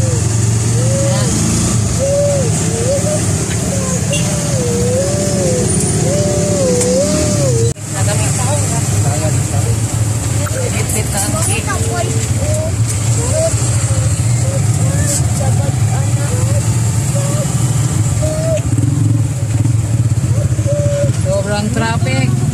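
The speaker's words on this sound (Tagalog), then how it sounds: "Sobrang traffic." Heavy road traffic with cars and motorcycles streams past in a continuous loud engine drone, with engines idling and revving nearby, a horn-like wavering tone and voices talking over the noise.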